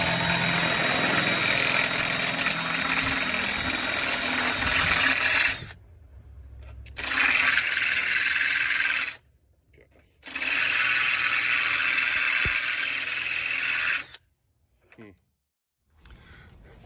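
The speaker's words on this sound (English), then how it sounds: "Try a little bigger drill bit" Power drill boring through metal to fit a replacement RV awning handle, loud whirring bursts lasting several seconds separated by short pauses.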